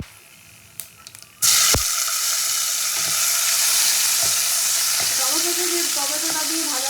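Chopped tomato hits hot oil with whole cumin and whole garam masala, setting off a sudden loud sizzle that holds steady and close, with faint scraping of stirring partway through.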